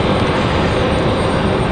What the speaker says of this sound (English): Next arrival is going to be American Airlines 1645 coming in from Charlotte, North Carolina